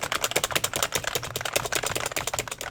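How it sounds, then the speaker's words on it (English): Fast typing on a full-size mechanical keyboard, a dense steady stream of sharp clacky keystrokes heard up close with no talking. "This is a mechanical keyboard, all right? And I'm gonna put the sound a little bit closer so you guys can hear it."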